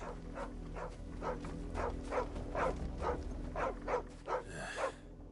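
Dog barking in the Final Fantasy 16 video game, a series of about a dozen evenly spaced barks over several seconds, moderately close, over a low ambient background.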